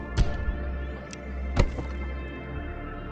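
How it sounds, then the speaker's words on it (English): Cannon shots in the From Glory to Goo strategy game: a few short, punchy thumps at irregular intervals over a steady low game-music drone, moderately loud with no voices. "that's the cannon that I unlocked by spending a lot of resources."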